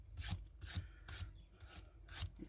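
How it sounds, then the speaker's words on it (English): A rubber eraser scrubs a light pencil line off card, in five close, evenly spaced back-and-forth rubbing strokes, quiet and alone. "So I can rub that pencil line out now."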